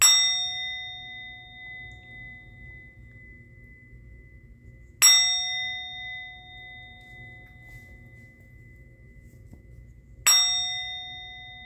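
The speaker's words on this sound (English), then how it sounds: "I'm going to ring a bell." A single bell is struck three times about five seconds apart, each a bright clear ding that rings out and slowly fades in a quiet room, with no voices.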